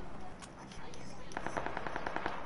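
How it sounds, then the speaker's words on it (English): Gunfire in the PUBG battle-royale game: after a short lull, a rapid run of about ten sharp shots rings out in quick succession over steady background game noise. "I'm following those gunshots right now"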